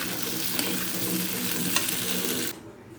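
Potatoes fry in oil, sizzling loudly and continuously in a pan with faint stirring, then the frying noise suddenly drops away near the end.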